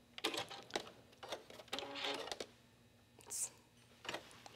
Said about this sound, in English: I'll stop there and I'll back tack a little.